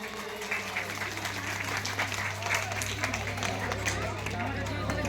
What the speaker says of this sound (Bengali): করতালি জোরে